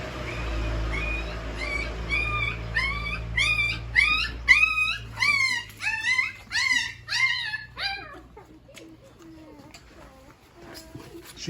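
Six newborn puppies whimper and squeal in a rising, high-pitched chorus of rapid yelps that peak, then thin into softer scattered cries, heard close with a faint low rumble underneath.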